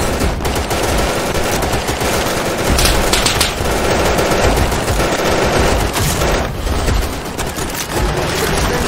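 A belt-fed machine gun in the Easy Red 2 video game fires in a loud, sustained stream of rapid shots, continuous for several seconds with brief dips in intensity.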